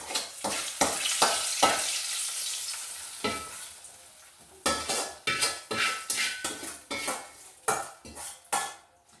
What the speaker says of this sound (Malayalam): ഇതിലേക്ക് നമുക്ക് ഈ ചെറിയുള്ളിയും കടുകും കറിവേപ്പിലയും കൂടി താളിച്ച് വെച്ചിരിക്കുന്നതോടെ ചേർക്കാം